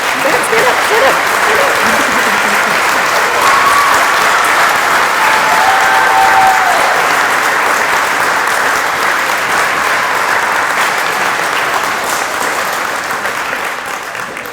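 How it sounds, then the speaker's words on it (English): Steady, sustained audience applause at a sixth grade elementary school graduation, loud and even throughout before tapering slightly at the end, with faint voices underneath. "Can we have a round of applause for these guys before I pronounce them?"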